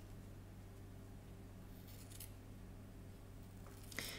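Scissors cut through wool felt material while shaping a second piece for a needle-felted fish, giving a few faint, soft snipping rustles over a steady low hum in a quiet room.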